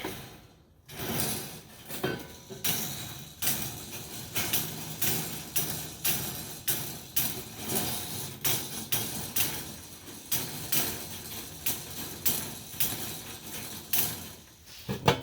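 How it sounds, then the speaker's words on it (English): Tin snips cut sheet metal for a tent stove, making a series of sharp metallic crunching snips in a steady rhythm about every second. Each close, loud cut is followed by a brief ringing scrape, with no speech. "we're going to cut along there with our tin snips"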